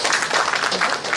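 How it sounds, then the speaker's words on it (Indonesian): Audience applause at a ceremony installing a regional association chair in Lampung, a dense, steady burst of clapping filling a short moment. "Dan mohon tepuk tangannya sekali lagi."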